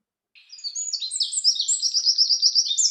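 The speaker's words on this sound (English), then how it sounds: "our mornings are filled with birds chirping sounds" Many birds chirp and tweet together in a steady, lively morning chorus, high-pitched overlapping calls starting after a brief silence and continuing throughout.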